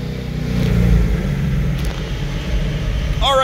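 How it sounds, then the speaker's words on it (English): A car engine at full throttle in fourth gear, a loud steady roar with deep rumble rising through the revs, heard inside the car under road noise, with a voice briefly at the end. "so that was our full throttle pull in fourth gear"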